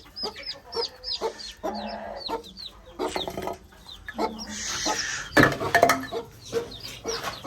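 Several hens cluck, squawk and cackle in repeated close bursts, fowl calls overlapping at varying loudness, with a louder flurry partway through, suggesting a scuffle between birds.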